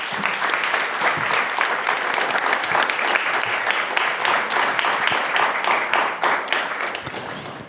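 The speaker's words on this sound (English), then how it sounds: "Let's have a round of applause for our speakers." An audience at a closing event applauds the speakers, a full sustained round of crowd clapping that holds steady and tapers slightly toward the end.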